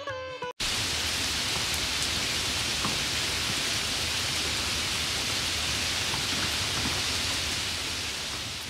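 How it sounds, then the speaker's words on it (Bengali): Heavy rain pours down in a dense, even roar that runs almost unbroken after a brief opening, loud and close with no voices over it. "বৃষ্টি যেন থামতেই চায় না"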